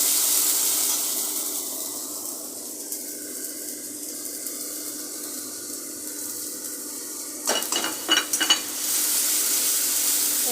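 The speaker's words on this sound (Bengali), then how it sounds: "এরপর মশলাটা ভালো করে কষিয়ে নিতে হবে।" Spice paste with turmeric, chili and coriander powders, salt and sugar sizzles softly in a pan, a faint, even frying hiss, then a short burst of stirring scrapes near the end.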